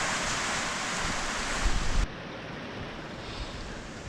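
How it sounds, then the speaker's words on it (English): Strong gusting wind blowing outside during a storm, a steady broad roar that swells louder for a moment before dropping to a lower steady rush, with no voices. "Bad winds, blowing trees over and branches off trees."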